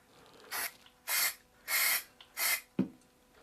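Four short bursts of aerosol primer spray, evenly spaced and close, each a sharp hiss, followed by a brief click.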